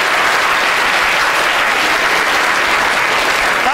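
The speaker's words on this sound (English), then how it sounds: "Give yourselves a round of applause." An audience at the Royal Institution claps for itself, a dense, loud burst of applause that fills the whole moment with no talk over it.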